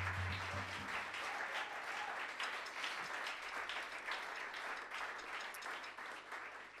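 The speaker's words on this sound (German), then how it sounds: "Ist Applaus wert." Audience applause at a live blues concert in Leipzig, a sustained wash of clapping from many hands, fairly even and continuous, with a brief low tone at the very start.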